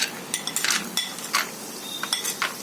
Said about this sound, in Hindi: सबसे पहले मूंगफली को फ्राई कर लेते हैं।